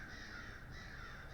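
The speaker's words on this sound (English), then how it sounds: "they're crows" Crows caw in a faint, distant pair of harsh calls over a soft steady background hiss, with no one talking.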